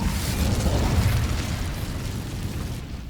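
Incendio fire spell blasts in the video game Hogwarts Legacy, a loud, sustained roaring burst with rumbling low end that fades slightly toward the end, no talking.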